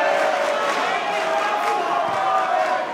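A crowd at a 2014 Big Ten college wrestling match between Penn State and Michigan roars in a sustained, loud cheer during a sudden-victory period, with an announcer's voice running over it.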